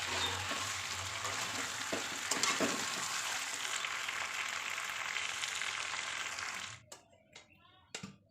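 Mutton sautéing in a pan, a loud continuous sizzle with a few stirring knocks that cuts off near the end, leaving a couple of brief clatters in quiet.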